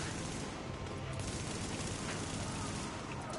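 A Sentry Turret in The Division video game fires a dense, unbroken stream of rapid gunfire that stays loud and steady from start to finish.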